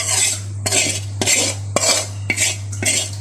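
Chili dry-roasting in a pan for Vietnamese-style kuay jap noodles, heard as a run of sharp metallic scrapes and clinks of a utensil against the pan, repeating every half second or so over a steady low hum.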